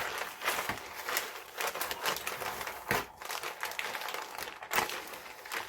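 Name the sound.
plastic bag dabbing gesso off a page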